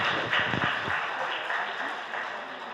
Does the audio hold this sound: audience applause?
yes